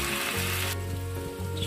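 Garlic cloves frying in hot oil in a pan give a steady, close sizzle that drops to a softer bubbling hiss partway through, with no talk.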